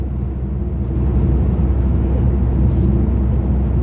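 A car drives through a long road tunnel, a steady low rumble and engine drone from inside the cabin, continuous and even, with no talk over it.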